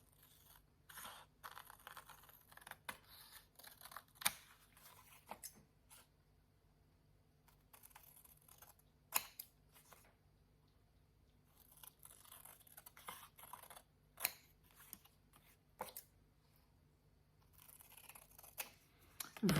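Scissors trimming the edges of paper, a scattering of quiet, sharp snips at irregular intervals against a near-silent background.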